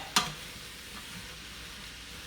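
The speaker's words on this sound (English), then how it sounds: "So they're cooking right now in hot fat. I got that oil and butter in there." Onions cooking over medium heat in hot oil and butter give a steady, soft sizzle, opened by one sharp crackle near the start.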